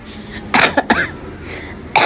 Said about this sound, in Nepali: खोकी लगाइरहेको छ